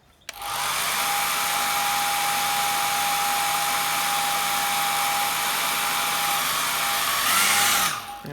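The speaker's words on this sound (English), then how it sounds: "I'm just going to hairdryer it." A hair dryer switches on and runs at a steady, loud whine with a constant whooshing airflow while drying gouache paint, then powers down near the end.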